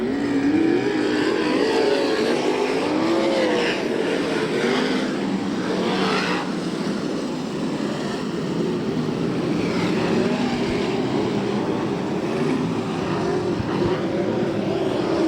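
USAC and CRA sprint race cars roll around the oval at Perris, California in a four-abreast salute before the race, their engines a loud continuous rumble with rising and falling revs as the pack passes.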